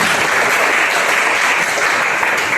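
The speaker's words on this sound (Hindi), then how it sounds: "जोरदार ताली बजाओ।" A church congregation at a Sunday service claps loudly and continuously, a dense, even wash of hand claps with no voices heard.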